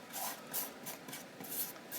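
A paintbrush rubs and smooths glued paper down during a sealer coat on a Halloween poison cabinet craft, giving soft, rhythmic scratchy brushing strokes at close range, repeating about every half second, with no voices.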